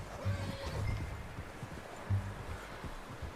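A horse whinnies in the video game Red Dead Redemption 2 with a rising-and-falling neigh, followed by a few muffled hoof clops and soft rustling in the background.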